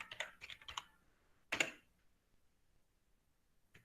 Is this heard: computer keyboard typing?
yes